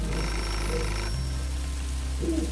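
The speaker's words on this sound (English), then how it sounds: "The phone's going off." Telephone in the video game Beholder rings briefly, a short ringing burst up close that cuts off after about a second, followed by a low steady hum and a faint later chime.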